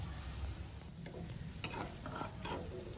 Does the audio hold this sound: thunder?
no